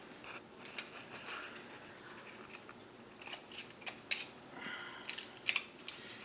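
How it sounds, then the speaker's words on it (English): Scissors snip two short slits into a soda can while a small can stove is being made, giving a handful of crisp, close metallic clips spaced irregularly over quiet background. "I just cut 2 little slits to hold it in place."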